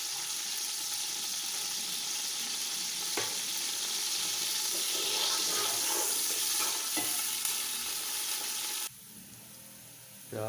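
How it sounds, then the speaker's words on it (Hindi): Onions sizzle in ghee in a pan, browning for a chicken gobi dish, a steady close hiss with occasional stirring clatters before the frying briefly drops quieter near the end. "प्याज़ों को ब्राउन कर लेते हैं अच्छी तरह"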